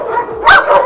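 Dogs bark at a large shelter for dogs in Merlara, Italy, where more than a hundred are housed; one short, loud burst of barking rises over the kennel's background clamour, with no talk.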